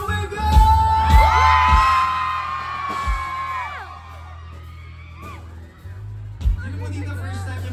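Concert crowd at a show at Blue Bay Walk yells and whoops loudly with a swelling cheer in the first half, fading then a brief burst later, over a low stage hum.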